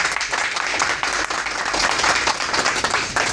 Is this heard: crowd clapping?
yes